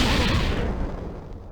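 A single loud close blast from the video game Black Witchcraft, a heavy boom at the start that rumbles and fades away over a second and a half, with no talking.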